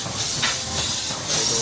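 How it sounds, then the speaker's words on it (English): Steady loud hiss of steam venting from a steam locomotive at Efteling theme park, close by and continuous for a moment. "Proper steam train"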